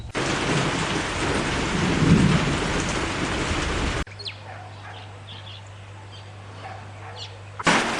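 Heavy rain with thunder during a stormy arrival at a chalet stay in Askam, Namibia, a loud steady wash of rain for about four seconds, then a quieter stretch with a low steady hum and faint drips before the rain noise returns at the end.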